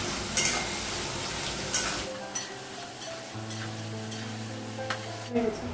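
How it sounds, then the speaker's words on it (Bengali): Onions fry in a hot pan with green chillies, a continuous crackling sizzle broken by several sharp scrapes and clinks as a utensil stirs them against the pan. "পেঁয়াজটা একটু লাল করে ভেজে নেব"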